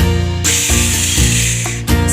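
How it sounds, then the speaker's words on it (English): A fire truck's hose spraying water in a children's cartoon: a loud, steady broadband hiss that starts after a short low thump, runs for over a second, breaks off briefly and then bursts back on. "We'll spray the water."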